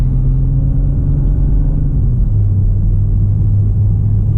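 A new Toyota GR Supra pulls away gently on a racing circuit, its engine giving a smooth, calm low rumble that rises slightly and then settles, heard up close and continuously with no talking.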